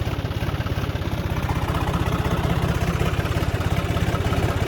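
A tractor engine runs close by during a paddy rice harvest, a loud steady diesel chug with an even rapid pulsing beat and no voices.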